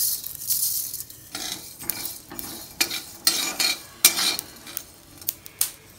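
Whole spices such as coriander seeds, fenugreek, cumin, cinnamon, pepper and cloves dry-roasting over low flame for a stuffed brinjal curry, with a spoon stirring and scraping the pan in repeated clinking, scratching strokes, close and clear without talk.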